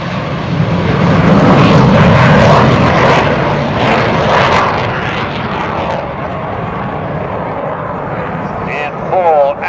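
An A-4 Skyhawk jet roars past loudly at a Vietnam re-enactment air show, the engine noise swelling and then fading slowly. A voice talks over it the whole time.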